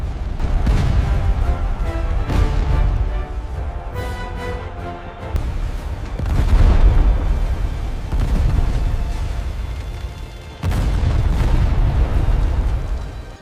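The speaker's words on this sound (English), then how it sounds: "They hurled fire pots and bombarded the harbor." Siege bombardment of a harbor, with heavy artillery booms and explosions landing one after another, deep rumbling blasts and crackling bursts repeating loud and close.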